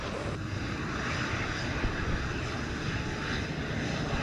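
A United airliner turns off the runway onto the taxiway after landing at Montego Bay, its jet engines giving a steady, moderately loud rumble and whine with no pauses.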